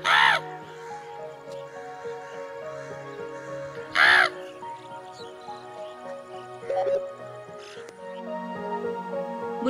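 Loud crow caws burst out at the start and again around four seconds, a man in a village near Moradabad mimicking crows with his mouth while real crows answer with fainter calls throughout.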